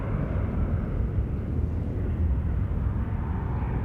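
A fixed-wing aircraft roars past at Sydney Airport, a loud, steady broadband rumble that fills the whole stretch without letup or voices.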